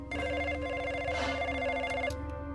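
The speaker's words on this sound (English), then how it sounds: "now the phone was ringing again" A telephone rings with a steady, continuous electronic trill that stays loud and near for the whole stretch, with no voices over it.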